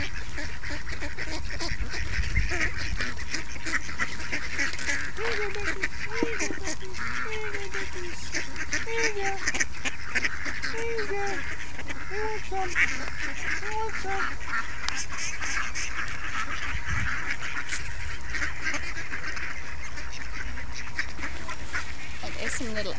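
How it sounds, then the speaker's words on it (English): Ducks with small ducklings calling outdoors, a steady scatter of short quacks and peeping chirps over constant background noise, with a voice talking now and then. "There's more duckies. Little duckies."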